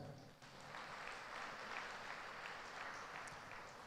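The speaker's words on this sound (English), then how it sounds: "Clap your hands." A congregation at a Catholic retreat centre in Bangalore claps hands together, a steady dense wash of applause that is faint and distant but continuous throughout.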